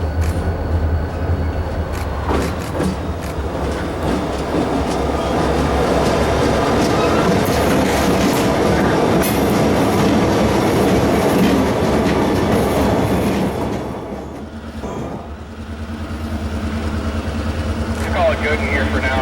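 Freight train rolling past on the Mass and New England Central line, a loud, close rumble with clickety-clack wheel noise that eases briefly before building again, with voices talking over it.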